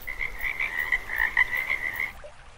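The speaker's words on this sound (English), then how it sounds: "Right there, it's a frog." A frog croaks in a rapid, continuous trilling run near a lake, loud and close for about two seconds before stopping abruptly.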